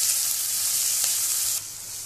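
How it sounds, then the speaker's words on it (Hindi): Onion slices fry over medium flame in a pan, producing a loud, continuous close-up hiss that drops slightly in level near the end. "तो हम सबसे पहले प्याज को डाल देंगे और इसे ट्रांसपेरेंट होने तक भूनेंगे"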